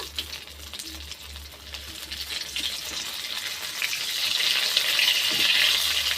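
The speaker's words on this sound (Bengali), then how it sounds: "এইভাবে উল্টে পাল্টে লাল লাল করে ভেজে নিতে হবে।" Food sizzles and crackles in a hot pan, a continuous frying hiss that grows louder and brighter toward the end.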